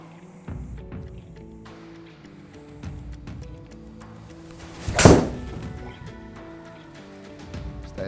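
A 7 iron strikes a golf ball on an outdoor course, one sharp, loud clack near the middle standing out over faint background noise and distant birdsong.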